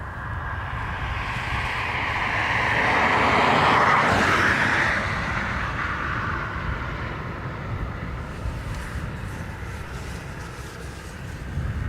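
An aircraft engine runs at Dublin Airport as a broad, steady roar that swells to a peak about a third of the way through, then settles into a sustained rumbling whine heard from nearby.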